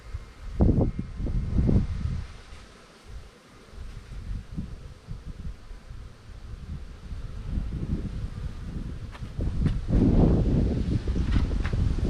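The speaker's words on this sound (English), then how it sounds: "Wind blowing my equipment around." Outdoor wind gusts buffet a beekeeper's equipment at an apiary during a spring hive inspection, a steady low rumble and rustle with louder thumps and bumps, no voices.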